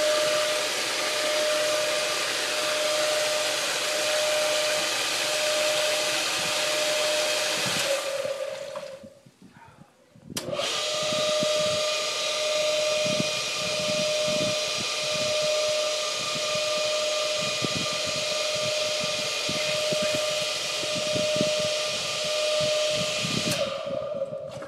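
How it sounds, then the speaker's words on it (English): A pool motor runs close by with a loud, steady whining hum and hiss. It cuts out briefly partway through, then starts up again and runs on at the same level. "I have no idea if you can hear anything I'm saying because of the sound of this motor."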